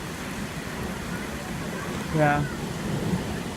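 Heavy rainstorm pouring onto flooded streets: a steady, dense hiss of rain throughout, with a brief louder swell near the middle and a person speaking once.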